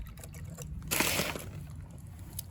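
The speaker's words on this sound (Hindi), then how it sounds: "और इसमें अब हम डाल देंगे पानी" Water poured onto a potted tulsi plant in a brief splashing burst of about half a second, close by, amid quiet background rustle.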